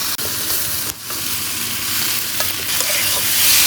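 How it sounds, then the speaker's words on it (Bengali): Fried potatoes are stirred into sizzling masala paste that has already released its oil, giving a steady, loud frying hiss with occasional scraping strokes. The cooking takes place at a nighttime picnic. "মশলার সাথে ভালো করে আলুটি দিয়ে তারপর একটু কষায় নিতেছে"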